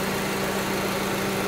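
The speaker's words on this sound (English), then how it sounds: "you just have to let the engine running for at least half an hour" A Honda CR-V engine idles steadily during an air-conditioning recharge, a constant low hum and drone at close range with no change in pitch and no voices.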